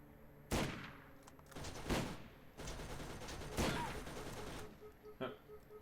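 Turret gunfire in Borderlands erupts in several sharp bursts, loud staccato shots and rattling volleys clustered over a few seconds amid game noise, ending with a final lone crack.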